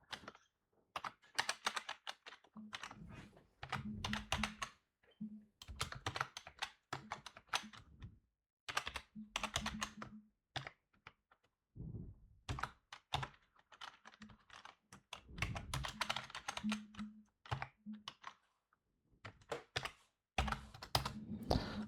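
Python code being typed on a computer keyboard, close and fairly quiet, with bursts of rapid keystrokes broken by short pauses throughout.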